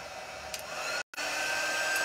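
A hair dryer blowing on fresh paint in a chippy paint craft project, a steady close whirring roar that cuts out briefly midway and then resumes, with no talk.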